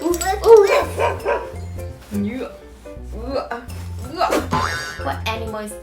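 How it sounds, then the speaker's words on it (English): A dog barks several times in a children's animal-sounds lesson, short repeated barks over a steady, bouncy music backing. "The dog says woof woof woof."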